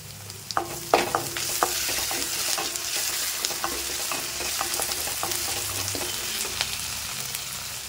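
Ginger garlic paste frying with onions and curry leaves in a pan for egg paniyaram gravy: a steady, close sizzle broken by frequent sharp clicks and scrapes of stirring, with no voices.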